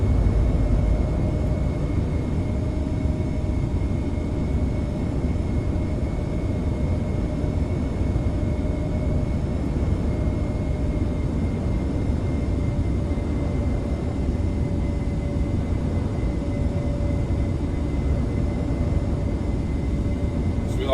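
An F-22A Raptor jet cruises in a flight simulator, giving a steady, loud, unbroken engine drone with a faint constant whine above it.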